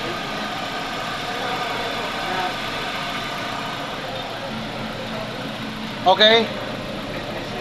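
A BMW car engine idles with a steady low hum after its alternator clutch pulley was replaced, a brief brighter squeal near the end, and someone speaks briefly over it.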